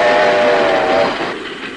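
A train rolls along the rails toward a station in a 1957 stage production, with a loud steady rumble and a tonal whistle-like hum that fades after about a second.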